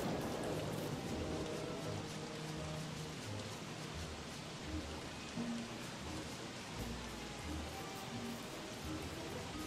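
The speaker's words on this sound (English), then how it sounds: "Oh no, it's raining." Rain in the video game Don't Starve hisses as a steady, dense wash of noise, soft and continuous with faint low thumps beneath.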